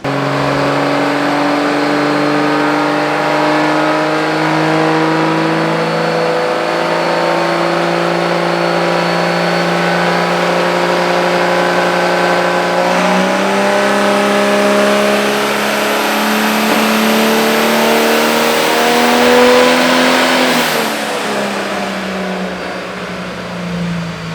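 A Cummins diesel truck fitted with a GT55 turbo is held at high RPM on a dyno, a loud, sustained engine roar with a rising whistle building late. The revs drop off near the end, and no voices are heard.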